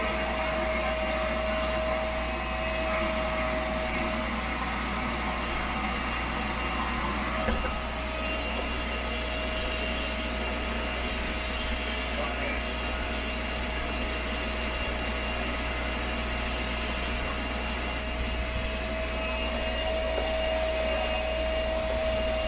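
A vacuum cleaner runs continuously at close range, a steady droning whine with a low hum underneath that never changes pitch.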